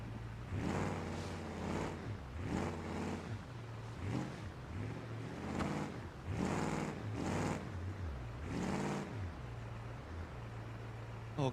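A Toyota 4Runner driving through ocean water during a hurricane, a rumbling engine rising and falling in repeated surges with washing, sloshing water noise, steady and moderately loud, no talk.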